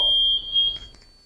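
A Telefire ADR-7000 fire alarm panel buzzer gives a steady, shrill electronic tone lasting under a second, then cuts off, leaving a quiet room.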